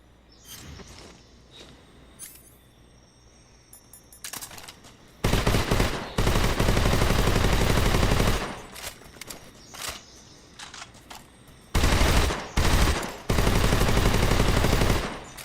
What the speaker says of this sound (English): Trusty AK.